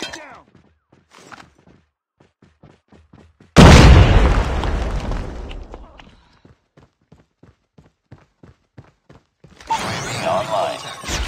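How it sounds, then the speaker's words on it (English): A grenade detonates in COD Mobile with a sudden loud boom that rumbles and decays over a couple of seconds, set between quiet clicking footsteps and game sounds, followed later by another burst of noise. "Grenade out."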